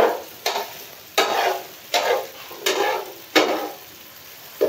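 A spoon scrapes and stirs chicken shawarma filling in a hot pan, about six regular strokes, each a loud scraping swish over a soft background sizzle.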